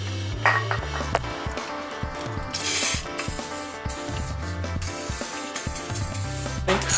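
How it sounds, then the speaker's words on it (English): WD-40 sprays from an aerosol can onto a suspension bolt on a lifted Mazda MX-5, short hissing bursts mixed with metallic clicks, scrapes and handling noises close by. "I got the WD-40, so I'm going to try that bolt again."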